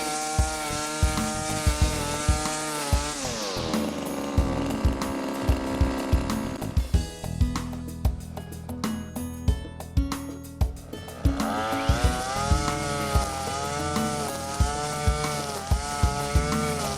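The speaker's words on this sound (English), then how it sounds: "watch as the twin nylon lines cut a wide path through the grass and the foliage" A Kiam Sherwood multi-tool strimmer runs steadily, its twin nylon lines cutting a wide path through grass and foliage; the close, buzzing motor shifts pitch as it works, with repeated sharp knocks from the cutting head, and no talking.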